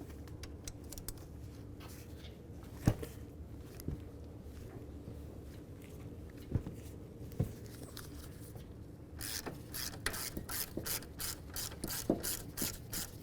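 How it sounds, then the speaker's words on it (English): A ratchet works loose 15mm caliper bracket bolts on a Buick LeSabre front knuckle: scattered sharp metallic clicks over a steady low hum, then a fast even run of close, loud ratchet clicks. "We're going to go ahead and remove the pair of those bolts."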